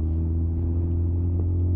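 Suzuki GSX-R 600 K9 motorcycle engine while riding, a steady, loud low rumble with a constant droning hum and road noise throughout, no voices.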